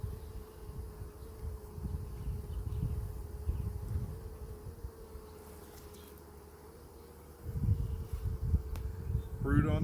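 Honey bees swarm around an open hive frame, producing a steady, dense buzzing hum throughout, close and moderately loud, with rustling handling noises swelling in places.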